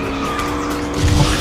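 Kart drifting in the KartRider racing game: a continuous engine drone with tire-squeal skid noise that swells louder near the end, no voices.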